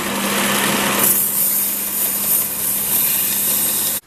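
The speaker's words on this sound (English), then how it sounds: "So I've brought the knife back to the sander here. I'm just going to try and get it back to solid bare metal." A power sander grinds an old knife blade down to bare metal, a loud steady high-pitched whine with gritty rubbing that changes slightly partway through and runs continuously before cutting off abruptly at the end.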